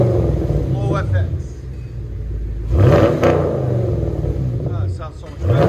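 A Chevy Camaro SS with a 6.2L V8 and Flowmaster FlowFX exhaust rumbles at idle, then gives a sharp, loud rev that swells and falls back, close by, with someone talking over the engine.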